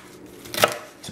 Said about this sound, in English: Now we're going to do the carrots and celery.